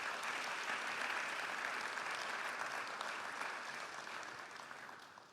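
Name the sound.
audience applause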